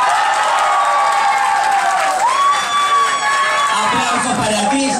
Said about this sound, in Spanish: Aplausos para Samantha Reynolds. Aplausos para Amber MacArthur.